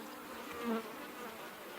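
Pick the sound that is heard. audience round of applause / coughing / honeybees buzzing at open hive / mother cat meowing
honeybees buzzing at open hive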